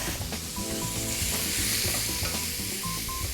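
Grated courgettes sizzle loudly in a frying pan while being stirred, with continuous crackling and scraping of a utensil against the pan.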